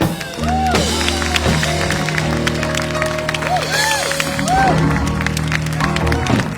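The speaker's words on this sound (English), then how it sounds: "Oh, clapping for a serial killer." Audience applause at a live concert at the Old Mill fills the room after a song, a steady wash of clapping mixed with sustained instrumental tones and some talk.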